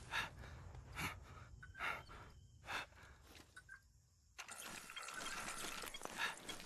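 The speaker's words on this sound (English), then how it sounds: "I really can't stand this audio bug, the fact that I can hear myself breathing all loud" Loud, close character breathing in the video game Fallout 76 from an audio bug: several gasping inhales and sighs in a slow rhythm, followed by a wash of broadband game noise.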